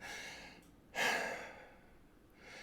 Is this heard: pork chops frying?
no